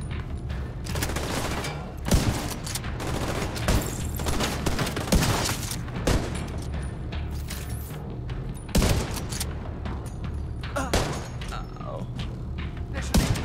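Steady gunfire in The Division 2, with rapid shots and thuds cracking one after another throughout, loud and near over a dense, busy combat background.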